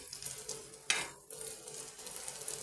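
Ground spices with cinnamon powder sizzle in a pan at low volume, a steady fry with one sharp burst of hiss and a brief stir.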